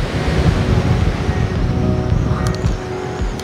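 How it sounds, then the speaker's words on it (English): Wind and surf on Chesil Beach, a UK shingle shore where cod anglers fish, roar as a steady broad wash with gusty rumble close to the microphone, brief rattles near the end, and no voices. "the wind's got up"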